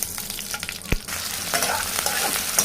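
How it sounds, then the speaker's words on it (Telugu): Bay leaf, cinnamon and cloves dropped into hot oil in a kadai, a steady close sizzle and crackle with a brief clink of a spoon, no voices over the frying. "బాండీ పెట్టి ఆయిల్ పోసింది, ఆయిల్ హీట్ ఎక్కింది. బిర్యానీ ఆకు, పట్టా, లవంగం ఇవన్నీ వేస్తుంది."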